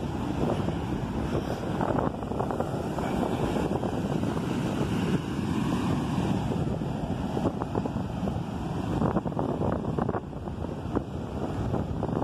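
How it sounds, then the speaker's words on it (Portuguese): Ocean waves roll onto the beach by the São Tomé lighthouse in Rio de Janeiro, a steady loud wash of surf that never lets up, with heavy wind buffeting the microphone the whole time. "Esse mar aqui é imenso, muito grande."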